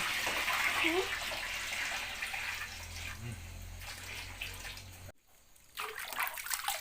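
Hot water runs from a tap into a metal basin for a bath, a steady broadband rush that continues for most of the clip, briefly cuts out near the end, then resumes.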